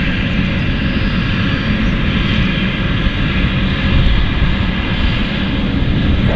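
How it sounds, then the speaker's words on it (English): A fixed-wing aircraft comes in to land at London City Airport, its engine roar loud, steady and continuous throughout, with no one talking. "Another aircraft inbound as well, over to my right."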